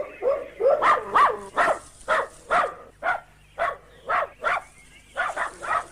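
Dogs bark repeatedly in a garden in Kenya, a dozen or so loud, close woofs in a fairly regular rhythm with short gaps between them and no voices.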